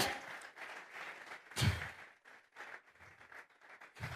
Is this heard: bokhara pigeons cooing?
no